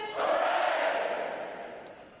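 Graduating U.S. Navy recruits at a boot camp graduation roaring a single long, loud massed "hooray" cheer that swells and slowly fades, echoing across an open parade area.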